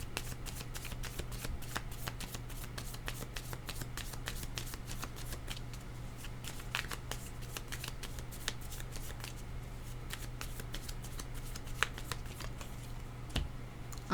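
Tarot cards are shuffled steadily for about fourteen seconds, a continuous papery riffling and flicking with soft, irregular snaps, close and fairly quiet, with no talking.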